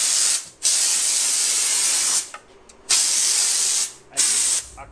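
A steam cleaner blasts steam onto a car in three long, loud hissing sprays separated by brief pauses, close up and with no voices.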